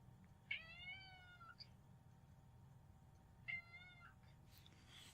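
A cat meowing twice, two clear drawn-out tonal meows a few seconds apart, close and fairly quiet over a low steady background hum.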